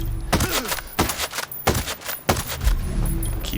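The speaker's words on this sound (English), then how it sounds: "Keep shooting until they hit the ground, I suppose." Gunfire in Ghost Recon Breakpoint, a series of sharp, loud shots fired in quick bursts with short gaps between, punchy and close, and no speech over them.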